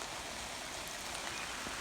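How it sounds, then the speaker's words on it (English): Steady rain falls outdoors on a farm by fence lines and cattle, a dense even hiss of drops that holds at a constant level throughout, with no voices. "it's raining harder now"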